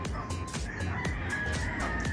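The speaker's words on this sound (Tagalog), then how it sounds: "Yan yung aking barako na manok." A rooster crows loudly and close by, a long drawn-out call, with hens clucking softly around it.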